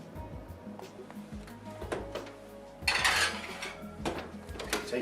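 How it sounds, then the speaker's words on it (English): A metal muffin tin holding a little vegetable oil in each cup is slid into a hot oven: metallic scraping and clanks, then a louder clattering rattle as the tray goes in, fairly close. "and then we're going to put it in a piping hot oven."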